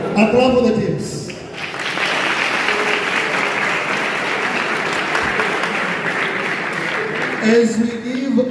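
Sustained audience applause after a high school debate between teachers and students, a dense wash of clapping from a crowd, with brief talk and cheering at the start and end.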